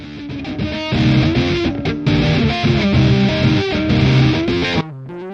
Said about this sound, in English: I have a very fuzzy guitar sound